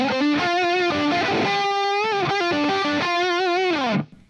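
Electric guitar lead through a Friedman JJ Jr 20-watt tube head in BE mode with no Boss SD1 boost in front, playing sustained, bending melodic notes with vibrato, loud and alone, ending with a sliding drop.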